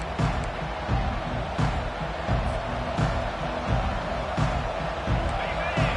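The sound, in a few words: football stadium crowd cheering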